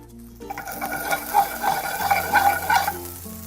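Brussels sprouts frying in bacon fat in a pan, a close, steady sizzle with stirring scrapes that swell and ease over a few seconds, with no talk.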